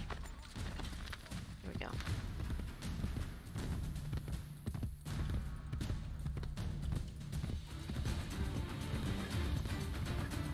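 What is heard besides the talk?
horse hooves clip-clopping in Assassin's Creed Brotherhood video game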